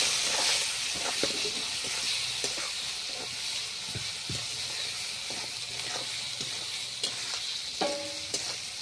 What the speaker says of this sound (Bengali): তেল গরম হয়ে গেছে, এখন আমি পেঁয়াজ কুচি দিয়ে দিচ্ছি।